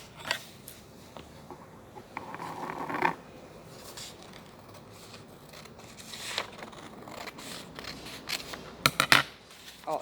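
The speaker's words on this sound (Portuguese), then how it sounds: "vou pegar a minha tesoura e vou recortar ela aqui" Scissors snip through folded sulfite paper close by, a series of crisp irregular cuts and rustles of handled paper in a quiet room.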